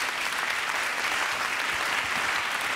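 Conference audience at the Forum d'Avignon breaks into steady, full applause, a dense wash of clapping that holds evenly from start to finish.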